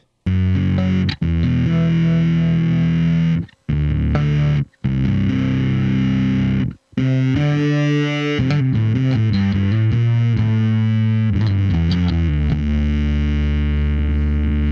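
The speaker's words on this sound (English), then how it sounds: "I've never heard a tremolo on bass, so we'll see." Loud, heavily processed bass guitar notes through a tremolo effect with a pulsing, wavering volume, broken by a few brief silences.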